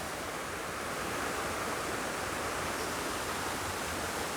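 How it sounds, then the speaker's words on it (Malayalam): A steady, dense roar of rushing water from a nearby waterfall near Paravur fills the air without pause, loud and even. "ആ ഒരു വെള്ളച്ചാട്ടം ഇങ്ങനെ വന്ന് ഇതിലേ കൂടി ഒഴുകി അതിലേ കൂടി അങ്ങ് പോവുകയാണ്"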